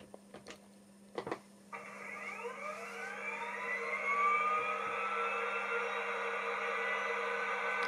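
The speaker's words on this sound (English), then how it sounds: "I'm now going to start up the gas turbine engines, which are very, very loud." Rapido APT-E model train's simulated gas turbine engines spool up after a few clicks: a rising, layered whine that climbs in pitch and loudness over several seconds, then holds as a steady high turbine hum over a constant low electrical buzz.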